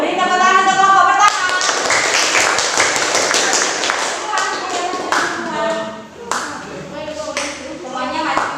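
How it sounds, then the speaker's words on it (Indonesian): Classroom students clap for the first group of presenters, brisk hand claps mixed with children's voices and chatter, with clapping strongest in the middle and quieter talk at the start and end. "Beri tepuk tangan untuk kelompok pertama."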